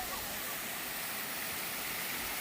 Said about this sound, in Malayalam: ഇതാണ് ഈ വാട്ടർഫാൾസ്